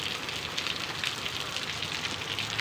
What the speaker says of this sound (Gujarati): જો નેક્સ્ટ લેવલ વરસાદ આવી ગયો.